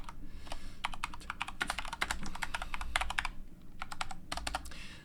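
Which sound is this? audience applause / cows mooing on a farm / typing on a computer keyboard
typing on a computer keyboard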